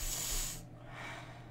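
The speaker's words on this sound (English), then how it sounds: "I think he's sniffing you." A character in the Garry's Mod horror game gives a quick, breathy sniffing hiss, one short airy burst that fades into quiet background noise.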